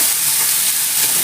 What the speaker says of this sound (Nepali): त्यसपछि हामी अदुवा लसुनको पेस्ट हाल्छौँ अनि टमाटर पनि हाल्छौँ अनि सबैलाई हामी बुन्छौँ मजाले सोते गर्छौँ